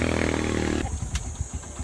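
A habal-habal motorcycle taxi in rural Batangas runs with a loud, steady engine drone that cuts off abruptly, followed by clattering and scraping knocks nearby.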